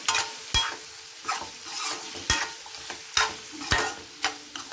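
Mutton fry stirred with salt and turmeric in a pan, a regular rhythm of sharp scraping strokes about every half second over a soft sizzle, close and without talk.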